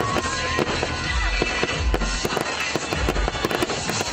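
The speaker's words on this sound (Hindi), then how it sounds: "जहां म्यूजिक के साथ साथ आतिशबाजी का जबरदस्त मुजाहरा किया गया।" Fireworks burst over the Islamabad United PSL 3 trophy march celebration at F9 Park in Islamabad, a loud, dense roar of repeated sharp bangs and crackles that continues without a break.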